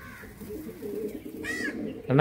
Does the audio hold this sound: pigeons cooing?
yes